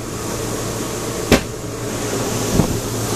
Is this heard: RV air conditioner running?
yes